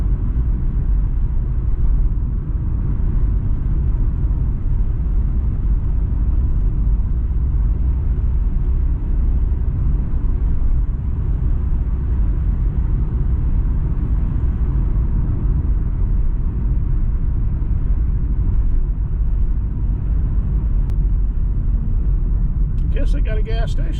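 A 2000 Subaru Impreza driving, heard from inside as a steady low rumble of engine and road noise throughout, with a person talking over it.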